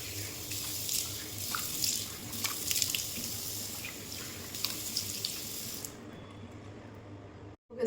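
Tap water running steadily into a sink while a rice and honey face mask is rinsed off, with small splashes over a continuous low rush that cuts off near the end.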